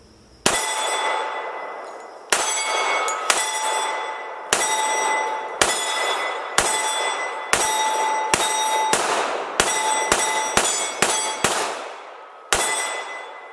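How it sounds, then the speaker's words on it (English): An FNX-45 Tactical pistol fitted with a Trijicon SRO optic fires a slow string of about a dozen loud, sharp outdoor shots, each ringing out with a metallic tail and spaced roughly a second apart. "So let's just shoot it slow like he was in his video."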